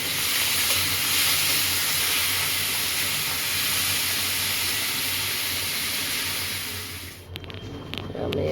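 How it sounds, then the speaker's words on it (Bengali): Prawns frying lightly in mustard oil give a steady, close, hissing sizzle that carries on evenly, then quickly falls away near the end and leaves a few faint clinks. "সরষের তেল দিয়ে দিই, কমে দিই। চিংড়ি মাছটাকে হালকা করে ভেজে নিচ্ছি।"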